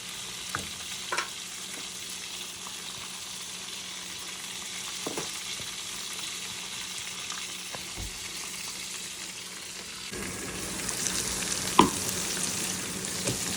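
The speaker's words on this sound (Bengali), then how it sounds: "সুটকিটা নরম হয়ে গেছে এখন আমি দিয়ে দেবো বেগুন" Eggplant and dried fish frying in a pan, a continuous close sizzle broken by scraping stirs and occasional knocks, the sizzle swelling louder toward the end.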